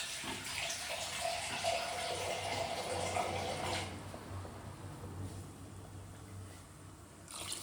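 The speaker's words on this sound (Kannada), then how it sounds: "ಇನ್ನೊಂದು ಸ್ವಲ್ಪ ನೀರು ಸೇರಿಸ್ಕೊತಾ ಇದ್ದೀನಿ." Water pours into a cooking pot of bassaru, a stream of steady gushing and splashing that softens and thins out partway through.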